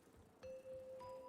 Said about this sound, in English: Simply ring those bells to open the way.